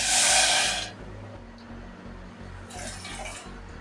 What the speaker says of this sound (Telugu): అదే కప్పుతో 2 కప్పుల నీళ్ళు పోయాలి చక్కెర పాకానికి